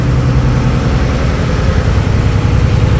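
Steady low engine drone of a ferry boat carrying vehicles near Goa runs throughout, a continuous heavy motor hum without pauses.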